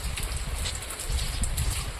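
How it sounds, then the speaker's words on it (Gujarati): Steady rain falling during a heavy downpour in Kutch, a continuous loud hiss with patter and low rumbling wind noise throughout, no voices. "હમણાં વરસાદ પડે છે"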